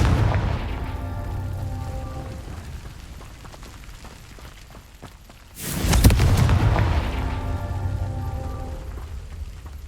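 A Confringo spell in Hogwarts Legacy erupts into a single loud explosive boom midway, followed by a rumbling tail over low ambient game music.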